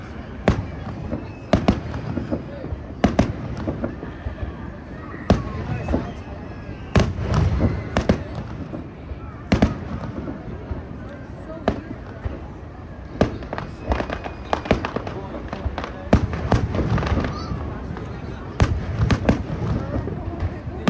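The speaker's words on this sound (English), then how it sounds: "Come on, make it a spectacular fireworks show." A fireworks show at Niagara Falls and Clifton Hill at night, with a steady run of loud booming bursts and crackles over the murmur of a crowded outdoor spot.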